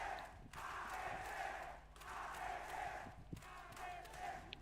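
A crowd at an esports watch party for a Valorant-style match roars and chants in surging waves, fairly faint and distant, with brief lulls between swells.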